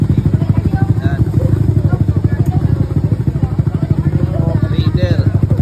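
A GTR 150 motorcycle arrives at a motovlog rally gathering, its engine a loud, close, steady rhythmic thumping idle throughout, with voices talking faintly alongside.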